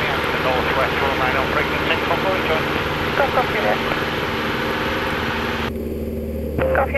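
A light aircraft engine drones loudly and steadily as the plane climbs away after takeoff from Northampton Sywell aerodrome, a constant close cabin roar with radio chatter and voices over it.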